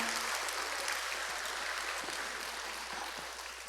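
A church congregation claps together during an afternoon worship service, a soft and fairly distant patter of applause that thins out gradually toward the end.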